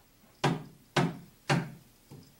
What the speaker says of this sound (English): Give me a knock, knock, knock.